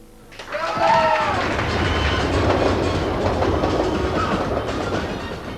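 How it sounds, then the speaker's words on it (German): A nearly empty Berlin S-Bahn commuter train rolling through West Berlin stations between 2 and 3 a.m., its loud steady rumble and wheel clatter building in after a brief squeal and holding for several seconds. "Die letzte S-Bahn vom Grenzübergang Friedrichstraße rollt fast menschenleer durch die Westberliner Bahnhöfe"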